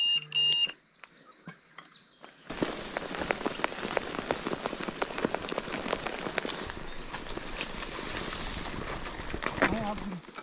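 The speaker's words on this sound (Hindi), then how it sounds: "और मेरा अलार्म बज पड़ा है" A phone alarm sounds briefly as a loud electronic beeping tone at the start, then stops. Dense crunching and rustling follows, like footsteps through brush near a village outside Islamabad.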